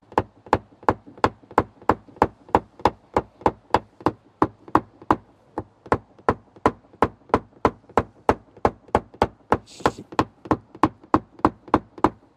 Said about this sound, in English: I might get a little slide hammer on this edge.